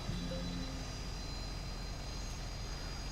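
A steady, even drone of an F-4 Phantom's engine in a flight simulator game, heard from the cockpit, with a faint tonal whine on top and no other sounds.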